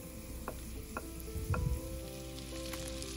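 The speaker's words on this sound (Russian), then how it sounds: "Добавим сливочное масло. Полностью его растопим" Butter melts in a pan for a sauce for Turkish red lentil soup, giving a soft, steady sizzle with a few light taps and stirring sounds, heard alone and fairly faint.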